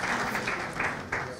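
Applause from an audience at an award ceremony for the natural stone and mining sectors, heard as a brief, moderate patter of clapping with faint pulses of louder claps.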